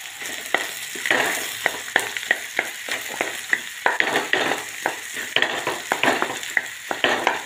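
Vegetable bhaji mixture sizzling in a pan while a spoon stirs it in quick, regular strokes, each scrape cutting through a steady frying hiss, close and fairly loud, with no voices.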